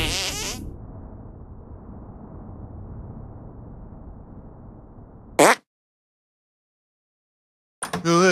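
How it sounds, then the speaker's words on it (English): A cartoonish fart sound in the video game South Park: The Stick of Truth: a sustained, buzzy, sputtering blast lasting about five seconds, followed by a short sharp burst, silence, then a brief burst at the end. "Make your fart detonate behind me."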